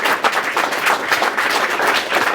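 Conference audience applauding steadily for a speaker at a state party convention, a dense, continuous patter of many hands clapping at close range with no talk over it.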